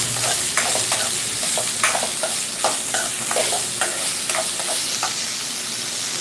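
Onions sautéing in a pan for mushroom gravy: a dense, continuous sizzle with frequent scraping stirs, close and fairly loud, and no voices.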